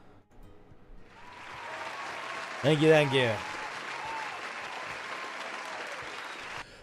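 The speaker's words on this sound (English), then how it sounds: "let's give Ren a little round of applause" Steady applause from a small audience swells for several seconds, while a person briefly says a few words of thanks over it.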